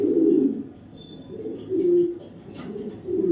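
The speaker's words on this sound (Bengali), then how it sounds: "দেখো এটা দোবাজ একটা নর কবুতর" A male racer pigeon coos nearby in deep, rolling phrases that swell and fade about four times, with short quiet gaps between them.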